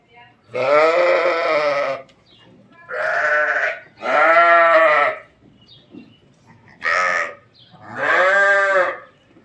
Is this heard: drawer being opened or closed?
no